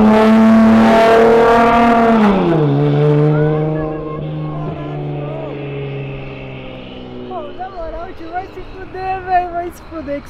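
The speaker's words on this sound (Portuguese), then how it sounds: "Deu pra ouvir aquele carro vindo" A Nissan GT-R at a JDM car meet roars in loud and close, its engine pitch sliding down as it passes, then fading into distant rumble while people chatter excitedly nearby.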